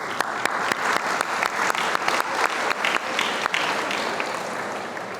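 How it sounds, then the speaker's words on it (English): Steady applause from a sizable crowd at a school district convocation, continuous clapping with a few sharper claps standing out, sustained for several seconds without talk. "One more round of applause."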